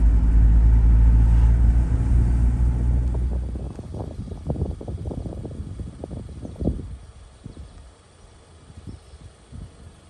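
A big vehicle rumbles loudly past on a road in Shenandoah National Park, its heavy low engine roar swelling and then fading away into lighter sounds.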